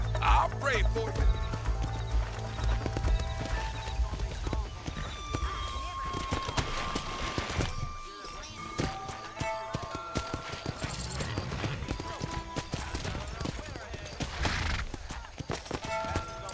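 Horse hooves clip-clop with a whinny amid busy Red Dead Redemption game sounds, while people talk over the top.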